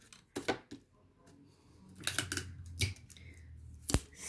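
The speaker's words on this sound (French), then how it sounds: "Je coupe le surplus." Scissors trim excess paper for an iris folding card, giving a few crisp snips spaced apart, close and fairly quiet, with soft handling sounds between them.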